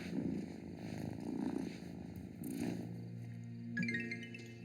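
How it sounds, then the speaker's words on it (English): A pet cat purrs in the video game Wylde Flowers, a steady low rumbling purr that swells and fades in slow cycles, close and continuous, with faint game music and chimes above it. "Oh look, our kitty cat is here."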